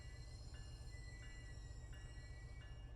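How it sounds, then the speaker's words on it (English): A commuter train in the MBTA rail simulator Train Sim World 2 coming to a stop, a low steady rumble of wheels and motors with faint periodic high clicks, quiet and continuous, no voices. "We're just going to go ahead and stop the train right here."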